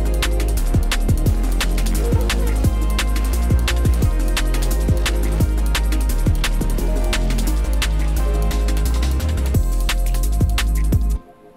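Layered analog-sounding synth from a Phonic plugin in FL Studio plays within a dense liquid drum and bass mix, full and loud with sharp drum hits throughout, stopping abruptly near the end.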